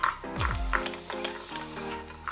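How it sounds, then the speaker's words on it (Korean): Radish stir-frying in chili oil in a pan: close crackling sizzle with scraping stirring strokes, a busy, uneven texture of spitting oil throughout. "뒤집어주면서 3분 정도 볶아 양념과 골고루 버무리고"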